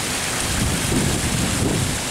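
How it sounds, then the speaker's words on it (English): Steady, dense water fountain splashing and rushing, loud and close, a continuous broadband wash with no pauses. "I really like this water fountain"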